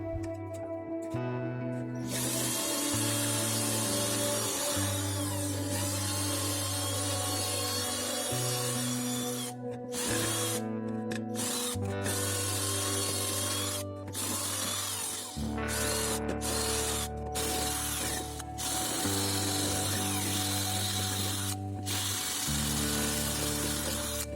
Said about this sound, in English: so I decided to use my drill.